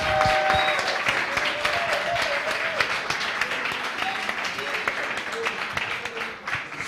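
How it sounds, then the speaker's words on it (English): Audience applause at a startup demo day, a dense, steady wash of many hands clapping throughout, with faint voices in the room beneath it. "Another big round of applause for you guys, entrepreneurs, founders, and your teams"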